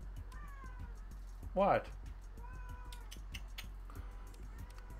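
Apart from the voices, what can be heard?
cat meowing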